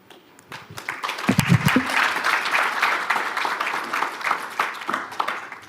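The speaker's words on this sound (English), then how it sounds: "a big thank you and a round of applause for our presenters and panelists" A conference audience at a closing ceremony applauds presenters and panelists with a dense, sustained wash of clapping that swells quickly and holds steady for several seconds.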